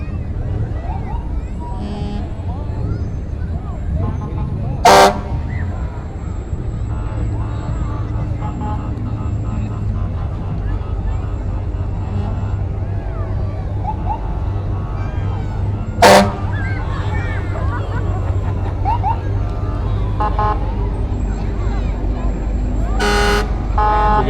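Classic cars, trucks and an SUV roll past in the Jackson Christmas parade: a steady low engine and crowd rumble, broken by two sharp horn toots and a third near the end, with voices talking over it.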